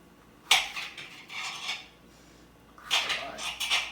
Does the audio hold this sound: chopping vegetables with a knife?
yes